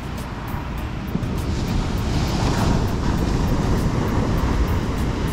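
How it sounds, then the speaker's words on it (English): Large Pacific Ocean waves at Divorce Beach in Cabo San Lucas, a loud, continuous roar of heavy surf that swells slightly and never lets up, with no voices. "The waves are crazy huge."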